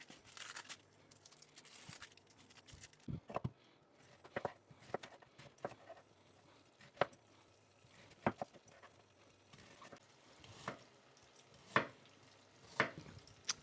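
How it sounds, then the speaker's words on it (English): A big onion being finely sliced with a sharp knife on a board, heard as sparse, irregular crisp cuts with quiet pauses between them, fairly close and with no talking. "Top and tail, peel and finely slice the onion"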